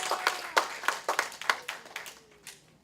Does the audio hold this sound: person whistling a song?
no